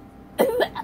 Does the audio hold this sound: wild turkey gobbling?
no